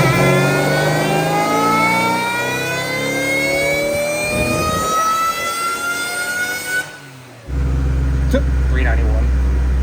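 Supercharged Saleen running on E85 fuel, revving hard on a run with a rising engine whine and harmonics that climb steadily, then cut off abruptly before the engine settles into a low idle.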